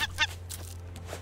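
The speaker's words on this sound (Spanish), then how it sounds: "pájaro, pájaro, mata!" A bird in the survival video game Raft gives two sharp, honking, goose-like calls close together at the start, then fainter squawks follow over a low steady hum.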